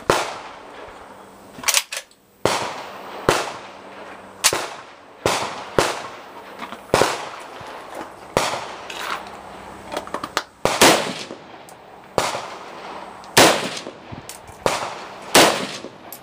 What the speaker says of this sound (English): My new toy. CZ VZ58. Hope you guys like it. I'm gonna go ahead and do some shooting for you.